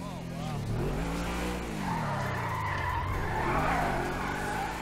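A car skidding in the video game GTA V: continuous loud tire squeal and engine roar throughout, with shifting pitch as the car slides.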